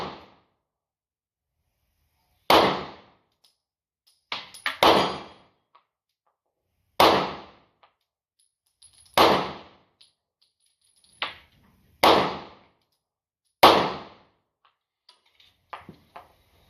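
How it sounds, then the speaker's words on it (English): .45 caliber pistol shots ringing off steel targets at an outdoor range: about eight sharp reports in a slow, irregular string, each with a short decay, with quiet gaps between them. "on some steel with 45 before we shoot any of the individual targets"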